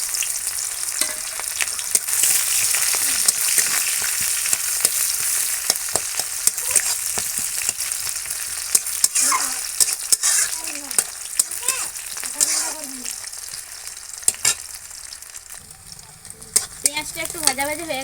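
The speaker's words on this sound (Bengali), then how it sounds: "এবার দিয়ে দেবো পেঁয়াজ কুচি।" Chopped onion hitting hot oil with dried red chilli and mustard seeds, giving a loud, steady sizzle and crackle with occasional stirring scrapes, and a short spoken phrase near the end.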